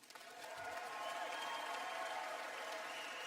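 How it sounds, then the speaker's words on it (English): An audience applauds a speaker at the end of a talk, sustained clapping from a crowd that rises quickly and holds steady, heard from a distance. "Let's give Bob a big hand."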